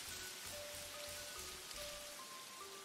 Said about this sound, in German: Schade, dass es hier drin auch regnet.